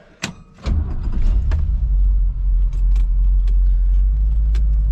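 An old farm truck loaded with corn starts up and rumbles steadily close by as it pulls away, with a few jangles and clicks from the cab.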